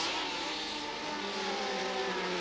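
1975 Formula 1 race cars at the race start, a dense steady roar of many engines at a distance, fairly faint and continuous.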